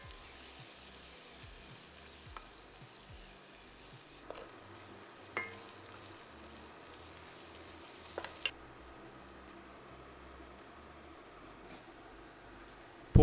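Shallots and garlic sautéing in a Dutch oven on the stove, a steady low sizzle and fry hiss with a few faint clinks and scrapes, close and quiet, with no voices.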